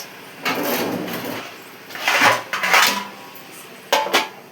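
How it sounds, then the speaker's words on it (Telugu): A metal lid clatters onto a pan of frying broad beans in a home kitchen. Several close, loud metallic clanks and scrapes come in separate bursts: a longer rattle first, then two sharp clatters, and a final clink after a pause. "చిక్కుడుకాయ ఫ్రై చేస్తున్నాను. కాస్త మగ్గ పెడదాం, మూత పెడదాం."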